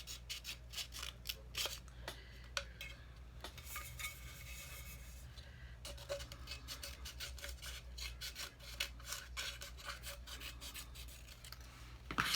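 Small scissors snip and rasp in quick, close bursts, with light scraping and rubbing between cuts; no one speaks.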